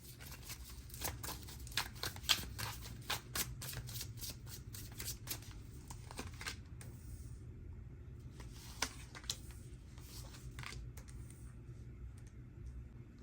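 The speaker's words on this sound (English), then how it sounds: "When I was shuffling" Tarot cards being shuffled by hand in a quiet room, a rapid series of soft riffling flicks and light taps, close and intimate, pausing briefly before resuming.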